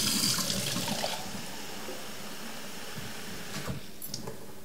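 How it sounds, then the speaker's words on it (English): Two cups of warm water pour from a vessel into a kibbeh dough mixture, a steady splashing stream that is loudest at first, then continues as a softer trickle with a few small drips, no voices. "I'm going to now add 2 cups of warm water"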